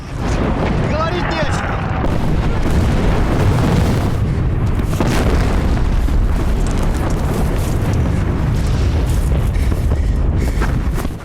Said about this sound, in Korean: 정말 끝도 없이 이어지는 독일군의 포격.